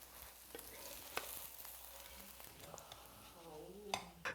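Pancake batter frying in a pan, a steady soft sizzle with a spatula stirring and scraping, light clinks of cookware, and a faint voice talking in the background.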